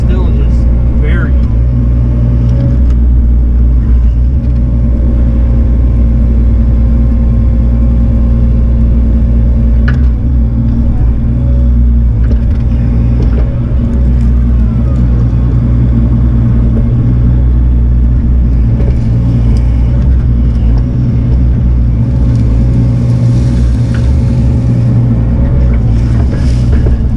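A Bobcat excavator drives on its tracks through mud at a flooded duck pond, with a loud, continuous low engine drone and rumble and wind buffeting the microphone throughout.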